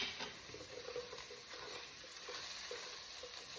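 Onions sizzling in a pot while being stirred for butternut squash soup: a soft, steady hiss with faint scraping patter, quiet and close.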